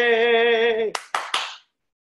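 After a home performance of a musical number, a long sustained sung note ends and a few quick hand claps follow close by. Three or four sharp claps ring out before fading into silence.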